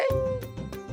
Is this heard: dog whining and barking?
yes